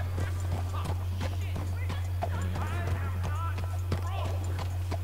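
Steady clip-clop of horse hooves at a walking pace in the video game Red Dead Redemption 2, in the town of Saint Denis, with talking over it and a constant low hum beneath.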